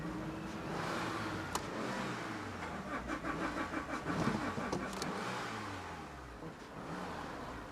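A Vauxhall Astra van engine revs and is held at raised speed, a steady mid-pitched drone with a few surges that rise and ease off.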